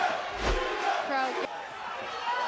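A crowd cheers and roars at a kickboxing title fight, a loud swelling wave of voices that rises and falls over about two seconds.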